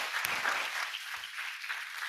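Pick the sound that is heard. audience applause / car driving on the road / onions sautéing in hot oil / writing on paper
audience applause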